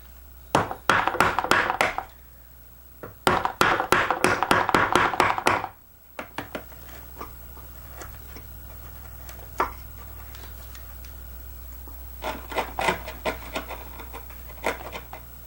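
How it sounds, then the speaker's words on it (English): A hand chisel scrapes and taps in quick rhythmic bursts as it cuts and cleans out a wooden dovetail joint, two loud clusters of strokes followed by sparser, fainter paring scrapes, close by and with no talking. "I'm going to use my chisel to clean out these edges here as well."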